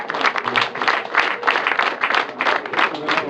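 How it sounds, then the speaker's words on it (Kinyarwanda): Wedding guests in Rwanda clap to welcome the groom, a lively, continuous round of applause made of many overlapping claps at moderate distance, with no voices standing out. "umuryango mukoma amashyi mwakira umukwe"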